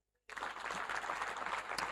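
A church congregation breaks into applause after near silence, a sudden dense burst of many hands clapping that carries on steadily.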